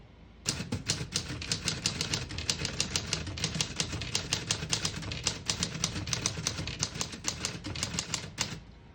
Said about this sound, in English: I'll type a sentence in red on the next line.